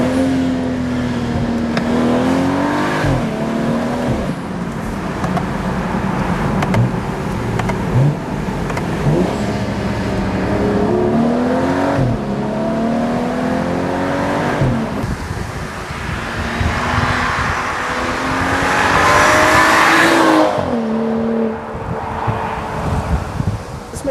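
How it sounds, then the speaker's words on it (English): A BMW 335i engine revs hard and downshifts, loud and close, its pitch climbing and dropping repeatedly in sharp blips with wind rush throughout and no talking. "Listen to the downshifts."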